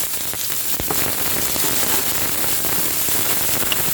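Ginger, tomatoes, yellow peppers, red onions and garlic sizzling in a hot pan, a steady dense hiss and crackle held close and loud throughout.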